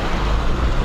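An overlanding vehicle fords a deep water crossing near Great Sand Dunes, a steady broadband rush of churning water and wind-buffeted noise with a low rumble, continuous and close for the whole moment.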